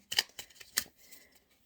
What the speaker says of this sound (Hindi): मैं इसको पहले शफल और कर लूँ